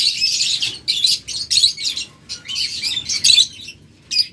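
Caged pet birds, such as lovebirds, budgerigars and cockatiels, chirp in quick, bright bursts one after another, loud and near, with short squawky notes and brief gaps between them.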